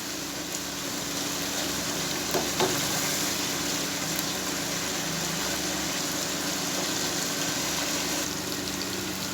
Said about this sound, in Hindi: इन कोफ्तों को इनके साथ मैं थोड़ा सा भून लूँगा ताकि दही भी थोड़ी मज़ीद खुश्क हो जाए।